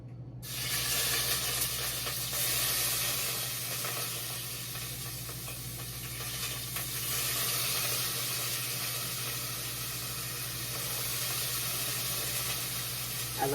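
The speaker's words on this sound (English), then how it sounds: "I'm going to start with some minced garlic. So I'm going to put it into the pot." Minced garlic sizzling in oil in a soup pot, a steady close frying hiss that starts abruptly and carries on evenly with faint crackles and stirring scrapes, no voices.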